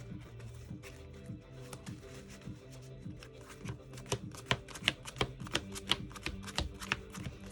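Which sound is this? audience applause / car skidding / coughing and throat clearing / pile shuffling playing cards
pile shuffling playing cards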